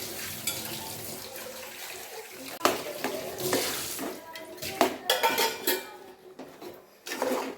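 Grated coconut being stirred into a tapioca curry in a metal pot, with scraping, clinking spoon-on-pan knocks and irregular stirring bursts up close, no talk over it.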